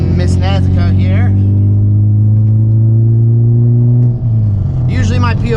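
An 8th-generation Honda Civic Si (FA5) engine drones loudly and steadily from inside the car while cruising, its pitch holding even and then dipping briefly near the end as the revs change.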